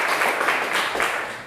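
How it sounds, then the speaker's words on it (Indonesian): A class of schoolchildren in an Indonesian classroom claps together, a dense, steady burst of many small hands held at even loudness for a short moment, with no talk over it. "Jadi tepuk tangan dulu semuanya."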